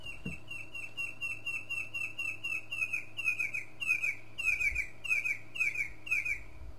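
A bird calls repeatedly in a steady series of bright, chirping notes, growing louder toward the end, with a faint low rumble underneath, on a morning safari drive.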